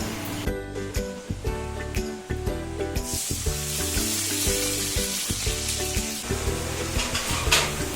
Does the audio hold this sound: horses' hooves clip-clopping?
no